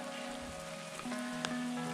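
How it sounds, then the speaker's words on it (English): Raindrops patter on a camera lens outdoors, a dense steady crackle of soft close taps over faint tonal background hum, with no talk. "Raindrops on the lens."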